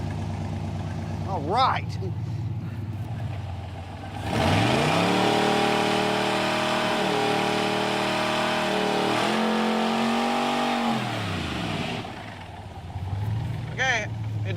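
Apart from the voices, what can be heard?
1966 Corvette engine starting and revving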